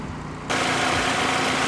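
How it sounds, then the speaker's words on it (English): A remapped Vauxhall Astra H VXR Mk5 engine cranks and catches after a short quiet pause, then settles into a steady, close, fairly loud idle. "Just going to start the engine now"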